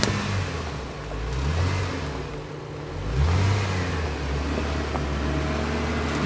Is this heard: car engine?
yes